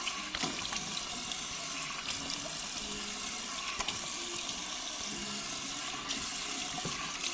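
Bathroom tap running as a face is rinsed before shaving, a loud close stream of water broken by splashing and handling noises, no one speaking.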